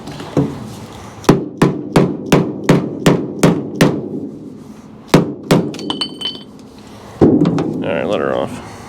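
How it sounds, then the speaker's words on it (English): A hammer strikes the metal body of a 1964 Chevy II in a quick run of about nine sharp, ringing blows, then a few more after a pause, followed by a voice speaking nearby. "I'm gonna whack it with a hammer"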